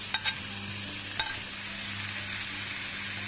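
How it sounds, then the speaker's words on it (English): Onion and tomatoes sautéing in a pan give off a steady broadband sizzle, with a few sharp utensil stirring clicks near the start. No one speaks. "Now we are adding the tomato too along with the onion."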